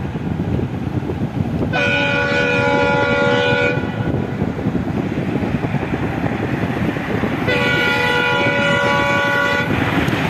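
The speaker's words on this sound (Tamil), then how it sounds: "ரொம்ப ஸ்பீடாக வந்துக்கிட்டு இருக்கு ட்ரெயின்" A train rumbles past at speed over a railway bridge with a continuous rushing clatter, sounding its horn in two long blasts.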